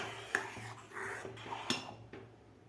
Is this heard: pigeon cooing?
no